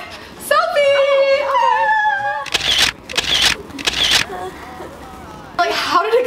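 A camera shutter fires several quick bursts as a group takes a selfie, sharp clicks in a short cluster, with voices and high vocal sounds around them.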